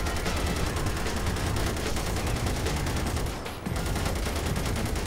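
Rapid, sustained gunfire from a police-car shootout in GTA 5 hammers nonstop, loud and dense, with a brief dip near the end before the volley resumes.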